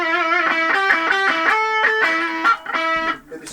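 Distorted electric guitar on the neck pickup switched to hum-cancelling mode, a run of sustained notes changing pitch every half second or so, loud and upfront with no voices, briefly dipping near the end.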